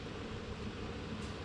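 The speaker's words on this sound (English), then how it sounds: "the beans and the cauliflower are starting to boil in the background there," Pot of green beans and cauliflower coming to the boil on a kitchen stove, a continuous broadband bubbling hiss that stays even and fairly faint in the background, with no talking.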